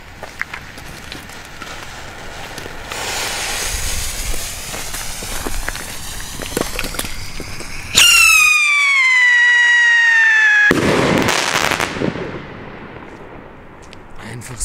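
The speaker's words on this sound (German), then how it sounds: "Das war doch mal eine ordentliche Rakete. Und weil es so schön war, schießen wir gleich noch eine." A New Year's Eve firework rocket is launched on a street. Loud crackling and bangs build up, then a shrill rising whistle cuts in, followed by sharp bursting explosions and a fading crackle.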